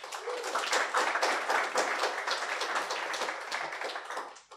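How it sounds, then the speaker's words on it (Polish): Steady audience applause at a Polish-language event, a dense wash of many hands clapping continuously at moderate volume for several seconds before tapering off at the end. "więc też wielkie brawa"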